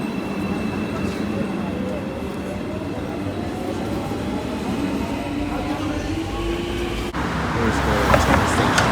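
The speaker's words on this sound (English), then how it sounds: "Here's the train station back there" A train passing at a station in Istanbul, a steady rolling rumble with rising wheel tones, growing louder and busier near the end amid street noise.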